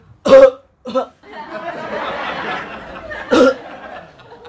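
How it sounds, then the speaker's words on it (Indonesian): A couple of sharp coughs up close, followed by a longer breathy, raspy stretch and then another cough burst. "Batuk-batuk lagi."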